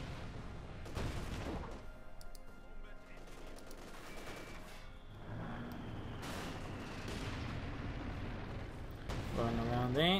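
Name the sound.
MG42 and mortar fire in video game Company of Heroes 2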